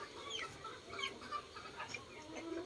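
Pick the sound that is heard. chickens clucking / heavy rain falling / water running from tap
chickens clucking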